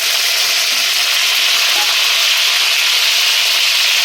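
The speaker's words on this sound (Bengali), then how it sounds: "এবার আমি দিচ্ছি পেঁয়াজ বাটা, পেঁয়াজ হাফ দিয়ে মাছে রেখেছিলাম, হাফটা দিয়ে দিলাম।" Onion paste sizzling loudly in a pan of hot oil with whole spices such as crushed cardamom, a steady close frying hiss running unbroken throughout.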